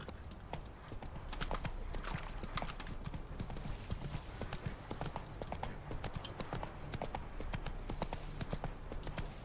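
Roach, a horse in the video game The Witcher 3, gallops in a rapid, continuous clip-clop of hooves over a low rumbling background, with no voice heard.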